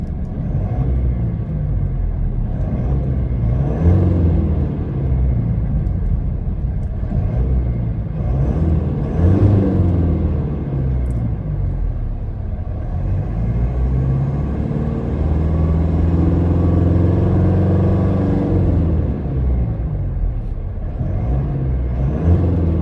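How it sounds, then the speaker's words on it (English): A 2025 Mitsubishi Triton GL 4WD engine and turbo revs up repeatedly in a steady, close, loud rumble, with no talk over it. "You could hear the engine and the turbo revving up."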